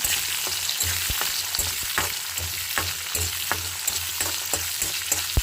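Tomato, garlic and dried red chillies fry in a pan for peanut chutney, a loud, close sizzle broken by regular scraping stirs of a spatula in a steady rhythm, with no talking.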